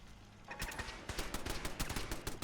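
Rapid bursts of automatic gunfire from a video game rattle in quick repeated cracks, loud and continuous after a brief quiet lead-in.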